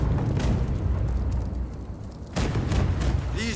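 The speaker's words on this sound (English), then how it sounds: "These British cannons pack quite a punch." Heavy British cannon bombardment in the Rise of the Ronin video game: loud, continuous low booming blasts and rumbling explosions fill the scene, with a brief lull before another burst, and a voice speaks over the battle.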